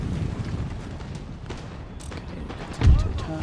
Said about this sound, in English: my commander will fire soon